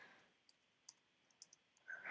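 Typing on a German-layout computer keyboard while coding JavaScript: a handful of faint, irregular keystroke clicks in a quiet room, ending with a brief louder rustle.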